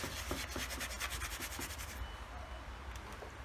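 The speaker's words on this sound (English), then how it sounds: "I'm going to use a Scotch-Brite pad for this. Try to get at the rust." A Scotch-Brite pad rubs across a rusty steel German M35 Luftwaffe helmet recovered from a river, giving a close, steady scratchy scrubbing with rhythmic strokes that thins out near the end.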